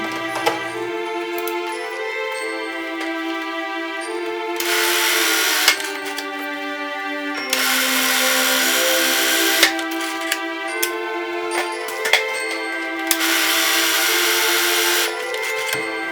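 A sewing machine stitches quilting lines on a fabric potholder, its motor humming in sustained runs broken by short pauses and small mechanical clicks, loud and close throughout.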